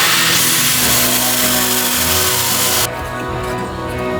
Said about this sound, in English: These flappy paddle sanding discs, sanding pads.